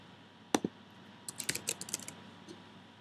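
Computer keyboard typing: a couple of sharp isolated key clicks, then a quick irregular burst of several keystrokes, close and crisp over a quiet background, no talking.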